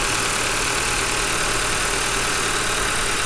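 A 2022 Audi engine idling steadily after an oil change, a constant, even hum with broad noise and no variation across the short stretch, close and fairly loud.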